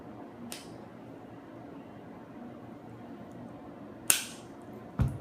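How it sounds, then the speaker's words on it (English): Madsen M47 rifle bolt, removed from the rifle, pulled back into the cocked position, heard as a couple of sharp, close metallic clicks over a quiet room hiss. "we need to get it back into the cock position. Just going to pull back"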